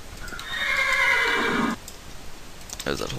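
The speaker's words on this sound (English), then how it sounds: "Stupid horse." A horse in the Minecraft video game gives a loud, clear whinny lasting more than a second, with faint hoof clip-clop and a few clicks following.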